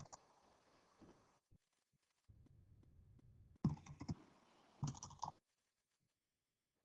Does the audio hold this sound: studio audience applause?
no